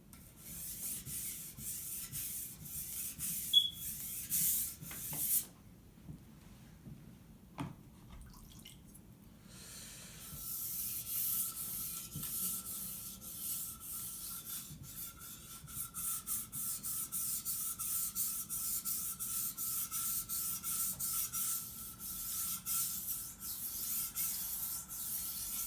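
A chalef knife being sharpened by hand on a 1000 grit whetstone makes soft, wet rubbing strokes, quiet and close, with a brief pause before the steady stroking resumes.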